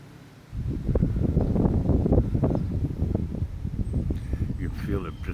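Gusty outdoor wind on a humid summer day blows loudly and unevenly across the microphone, a close buffeting rumble with rustling bursts, and a voice speaks faintly near the end.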